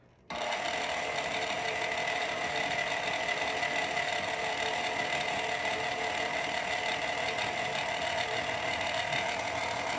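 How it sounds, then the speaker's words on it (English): A stand mixer runs on low through cookie dough for salted caramel cookies, giving a steady, loud mechanical whir with a constant motor tone that starts abruptly and holds evenly to the end. "I'm going to start the mixer on low."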